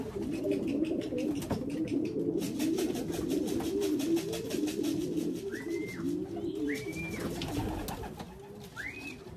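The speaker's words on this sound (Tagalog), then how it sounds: "May isa pa tayong ibon, dumating." Pigeons coo in a low, continuous rolling chorus close by, while a few thin, higher calls from another bird stand out briefly toward the end.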